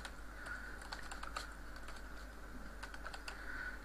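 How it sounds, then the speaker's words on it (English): Code being typed on a computer keyboard produces steady, quick clicking keystrokes for several seconds, close and moderately quiet, over a faint background hum. "I'll type here stage dot add event listener, and it will be keyboard event and key down"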